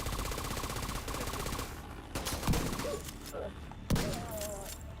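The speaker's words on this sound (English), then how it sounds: "That's the M870 shotgun they start you off with" M870 shotgun going off in the video game The Division 2, with heavy booming blasts amid rapid gunfire and a quieter voice partly underneath.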